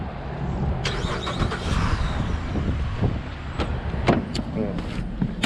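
A Chevrolet Impala SS engine cranks and fires up, its rumble rising under a voice nearby, with sharp clicks and hisses scattered through.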